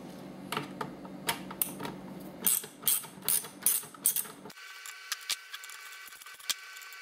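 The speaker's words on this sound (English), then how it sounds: "you want to remove the eight small bolts that hold the front of this bezel on" Small bezel bolts on a 1994–1998 Ford Mustang instrument cluster come out with a T15 Torx bit, giving a run of quick, close clicks and light ratcheting taps, followed by a few sparser mechanical ticks; no talking.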